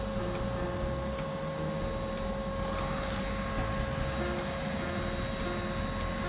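A homemade bee vacuum runs steadily as it sucks honeybees out of a tree during a rescue: a constant, close, droning whir with a fixed whine and no pauses or voices throughout.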